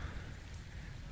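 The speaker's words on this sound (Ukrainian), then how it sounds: "От то дощик прийшов." Soft, steady rain patters continuously at a low level on a vegetable garden after a hailstorm, a faint even hiss with no voices.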